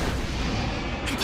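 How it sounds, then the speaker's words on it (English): Exploding blood attack from Demon Slayer: The Hinokami Chronicles, a dense, booming burst of explosive game effects that fills the whole short moment, with a brighter crack near the end. "Blood demon art. Exploding blood!"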